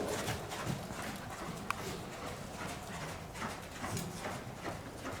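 Horse hooves clip-clopping in a steady medium trot during a dressage riding session, rhythmic footfalls at a moderate distance under a continuous arena background.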